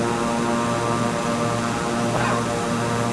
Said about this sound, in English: Yeah, so the props, I'm not on full throttle. Let's go to full throttle.